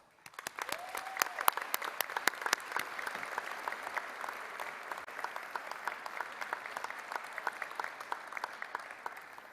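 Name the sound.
audience applause at senior graduation showcase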